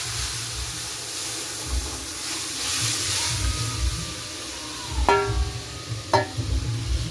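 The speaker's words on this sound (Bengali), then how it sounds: "দেখো পেঁয়াজটা ভেজে নিয়েছি ভালো করে, এবার ডালটা দিয়ে দেবো" Dal tipped into a pan of well-fried onions sizzles with a steady hiss, broken by a couple of sharp clatters of stirring near the end, with no talking.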